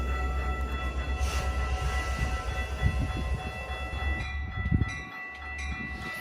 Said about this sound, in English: An outbound Milwaukee District North train arrives, being led by Metra's newest locomotive,